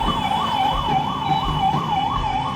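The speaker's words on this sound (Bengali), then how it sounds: "হ্যাঁ, অ্যাম্বুলেন্সও যাচ্ছে।" An ambulance siren wails in a steady rising-and-falling cycle, loud and close, over a rumble of road traffic.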